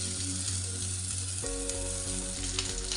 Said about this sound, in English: this pan is already hot, so I'm gonna add the fish inside in the pan